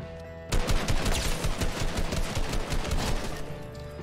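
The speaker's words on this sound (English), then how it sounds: "We start hearing some shots, they're nearby, we spot a target, pull up the minigun" Rapid, sustained minigun fire in the Fortnite video game, a dense run of close, loud shots in a steady stream that starts abruptly after a brief quiet moment and continues throughout.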